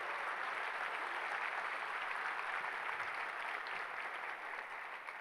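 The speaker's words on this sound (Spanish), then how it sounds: "Dele ese aplauso a Jesucristo." A church congregation applauds for Jesus Christ, a thick, sustained wash of clapping that holds steady and fades slightly toward the end, heard without any speech.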